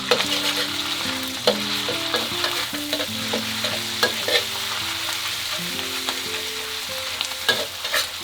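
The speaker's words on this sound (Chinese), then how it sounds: "就放豆瓣酱，炒出红油。" Chili bean paste stir-frying in hot oil, a steady sizzle at close range broken by frequent clinks and scrapes of the spatula against the wok, with no talk.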